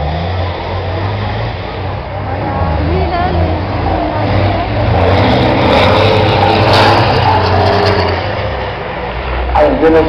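Racing trucks in a truck cross final at Baud in 2011, engines roaring and revving continuously at close range, a dense mechanical drone throughout with talk mixed in.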